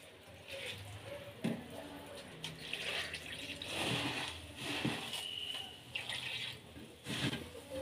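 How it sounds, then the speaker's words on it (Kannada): Water poured over puffed rice in a kitchen to soak it for a Karnataka-style dish, a steady close splashing and trickling stream in several bursts, fairly soft overall. "ಈಗ ಮೊದಲಿಗೆ ಕಳೆ ಪುರಿಗೆ ನೀರು ಹಾಕ್ಕೊಳ್ಳೋಣ ಮುಳುಗುವಷ್ಟು"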